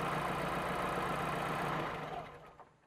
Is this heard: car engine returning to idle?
yes